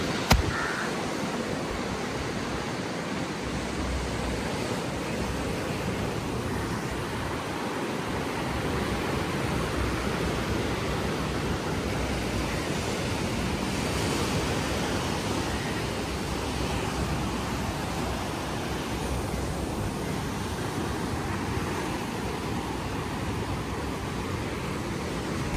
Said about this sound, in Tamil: இது வந்து ஹோட்டலுக்கு பின்பக்கம் 2 சைட்டுக்கு கடல் தான் இருக்குது ஃபுல்லாகவே.